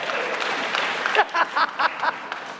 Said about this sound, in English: Oh, yeah, no, you want to clap, yeah.